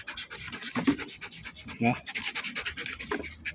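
A K9 dog pants in quick, close rhythmic breaths while someone talks over it.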